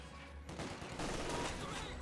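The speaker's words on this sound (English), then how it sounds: "MG42 firing away" Sustained machine-gun fire from an MG42 in the Company of Heroes 2 battle game, a dense rattling burst of gunfire that grows louder and continues steadily throughout.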